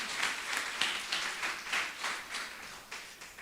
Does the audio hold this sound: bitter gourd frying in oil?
no